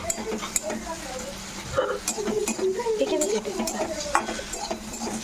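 Fried soybean and eggplant curry being stirred in a pan with a utensil, giving scraping clinks and taps over a soft sizzle. A voice talks intermittently under the stirring.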